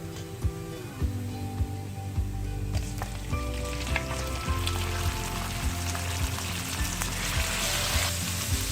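Steady loud sizzling of chicken strips frying in a hot pan for khao suey, with occasional scraping and stirring clatter, no talking.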